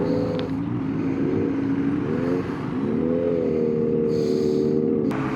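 Road traffic flows on the SLEX expressway, heard from a KTM SMC-R 390 motorcycle as a steady engine drone with shifting tonal hum and the whoosh of passing vehicles, continuous and close.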